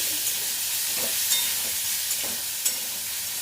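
Salted chicken frying in a pan hisses with a constant, dense sizzle, while a few soft stirring clicks and scrapes come through at irregular moments.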